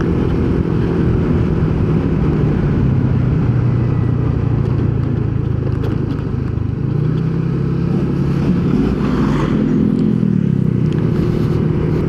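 Yamaha Nmax scooter with a TSMP touring CVT setup and torsion controller, ridden in touring mode: a continuous engine drone with wind rush that swells and rises in pitch near the end as it speeds up past a truck.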